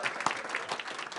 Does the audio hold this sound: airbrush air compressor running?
no